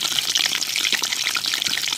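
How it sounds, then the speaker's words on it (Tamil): Mustard seeds and curry leaves crackle and sizzle in hot oil in a pan, a close, steady bright frying hiss with quick popping specks throughout, no voices. "எண்ணெய் சூடாச்சுங்க, கடுகு போட்டுக்கிறோம். தேவையான கருவேப்பிலை போட்டுக்கிறோம்."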